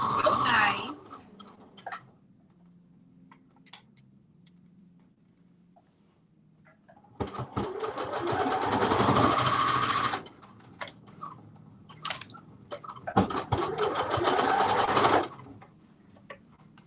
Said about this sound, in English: we have stitched together the front to the back and the overlay